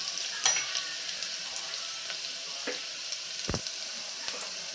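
Green chilli and ginger tempering sautés in a pan with a soft, steady sizzle, punctuated by a few sharp clacks of a spatula against the metal.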